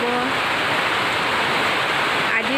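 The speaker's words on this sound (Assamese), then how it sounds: "ইমান ধুনীয়া বৰষুণ দিছে, সকলোৱে চাওঁ। এইটো তেজপুৰ টাউনত দি আছে বৰষুণ।" Steady rain pours over Tezpur town, a dense, even hiss of falling water that fills the whole stretch without a break, close and fairly loud.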